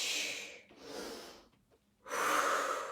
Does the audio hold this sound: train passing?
no